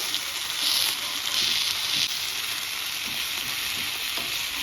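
Chicken dosa made with leftover chicken curry roasts on a hot pan, giving a steady, close sizzle and crackle that swells slightly in soft waves and runs without a break.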